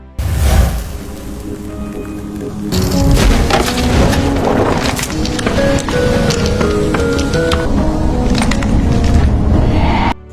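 A chessboard smashes apart during a fight between two powerful masters in a martial arts film, loud splintering and cracking wood layered with dense, continuous action effects and music throughout.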